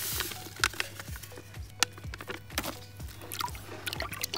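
Aqualite, a molasses-flavoured electrolyte liquid, is poured into a horse's water, giving sloshing and splashing pours with irregular drips and knocks, close and moderately loud, without speech.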